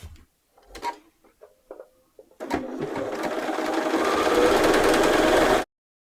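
After a few scattered handling knocks, a sewing machine runs a steady stitching burst along a reference line on a midi dress, close and even, for about three seconds before cutting off sharply.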